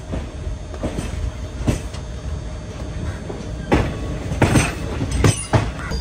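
A Parasuram Express train rolls into Kollam Junction station with a steady, close rumble, broken by sharp metallic clacks and rattling bursts from the wheels and carriages.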